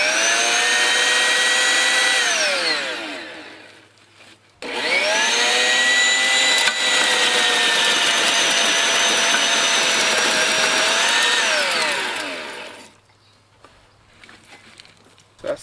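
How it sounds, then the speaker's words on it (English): A Sun Joe 16-inch electric garden tiller spins its tines with a loud steady whine, starting up, winding down, then running again for about eight seconds before spinning down to quiet. "I was going to show you how the tines spin."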